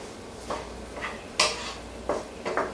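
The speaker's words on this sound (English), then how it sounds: "Now you want to just keep stirring your marshmallows." A spoon scrapes and clinks around a pot of melting marshmallows, five or six separate strokes at an uneven pace, close and moderately quiet, with no other sound.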